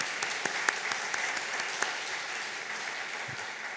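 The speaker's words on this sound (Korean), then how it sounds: "우리 박대영 목사님 한번 박수로 환영하겠습니다." A church congregation at a Sunday service in Dortmund applauds to welcome a guest pastor, a steady patter of many hands clapping at moderate distance with a few crisp individual claps standing out.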